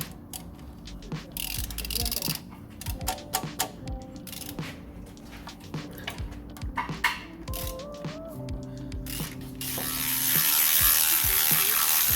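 A ratchet wrench clicks in quick repeated bursts while loosening 10mm oil sump bolts on a Fiat Punto Evo, with metallic ticks and a rising hiss toward the end.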